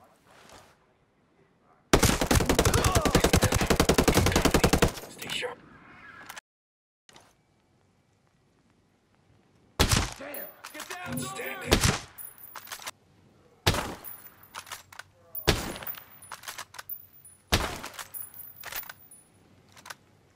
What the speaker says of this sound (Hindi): मैं आपके सामने स्नाइपर राइफल, DMR और असॉल्ट राइफल के कुछ फायर करके दिखा रहा हूँ